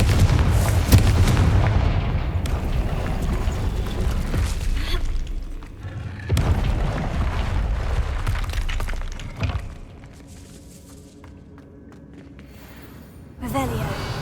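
Confringo blasting spells in the game Hogwarts Legacy, several booming explosions in succession, each sharp blast followed by a decaying rumble, with quieter gaps between them.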